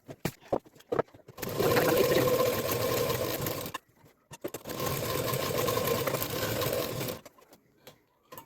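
A sewing machine stitches the seam of a homemade potli bag, running in two long steady bursts separated by a short pause, with light handling clicks before and between the runs and no talking.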